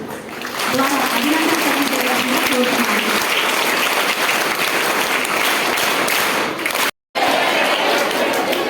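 A crowd of schoolchildren claps and cheers steadily for a teacher receiving a best teacher award, dense and loud throughout, broken by a brief dropout near the end, with voices mixed in.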